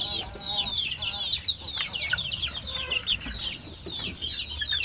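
A flock of native chickens being fed clucks and chatters continuously at close range, many birds overlapping in busy, uneven bursts.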